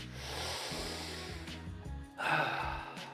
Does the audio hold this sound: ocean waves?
no